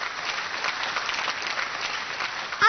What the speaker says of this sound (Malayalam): രത്നമ്മ ചേച്ചിക്കും മഞ്ജുഷയ്ക്കും കൊടുക്കാം വലിയൊരു കയ്യടി